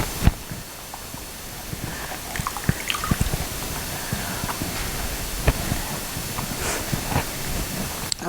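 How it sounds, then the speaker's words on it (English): Water drips and trickles as a sponge presses soaking wet paper pulp, steady hissy wet noise with scattered small drips and squishes, close up, no talk over it. "soaking up the water, and watch how much water comes out."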